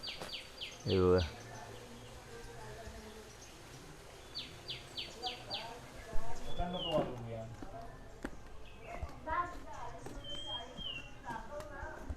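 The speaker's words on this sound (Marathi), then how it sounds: "सुंदर असा पक्ष्यांचा आवाज आहे" Birds calling and singing on a morning in a Konkan village near Rajapur, with repeated descending chirps and whistles at moderate distance, intermittent through soft outdoor ambience and a brief louder rustle.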